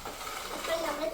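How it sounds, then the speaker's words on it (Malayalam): Beef pieces dropped into hot oil and stirred while making beef pickle, with a brief soft scrape and low frying crackle over about a second and no talking. "അങ്ങനെ ബീഫൊക്കെ ഇട്ടേച്ച് ഒന്ന് ഇളക്കി കൊടുത്ത്"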